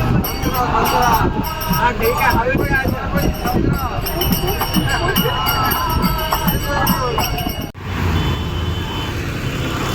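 A commuter train's steady rumble and rattling clatter fill the carriage near Currey Road, loud and continuous, then cut briefly and resume more quietly.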